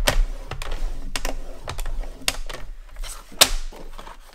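Paper being folded and creased for a scrapbooking mini album, a series of short crisp taps and crinkles at uneven intervals, close and fairly quiet, no talk.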